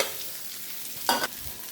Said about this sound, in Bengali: মরিচটা হালকা ভাজা হয়ে গেছে, সুন্দর একটা ফ্লেভার। দিয়ে দেবো 2 টেবিল চামচ পেস্ট কুচি